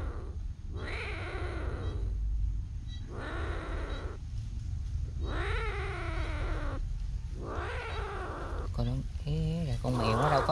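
A trapped wild leopard cat, a rare species caught in a bird snare, gives repeated harsh yowls and growling wails in close, loud bursts, with pauses between cries and a low rumble continuing underneath.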